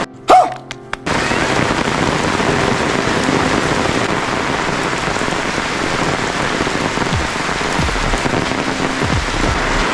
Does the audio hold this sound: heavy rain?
yes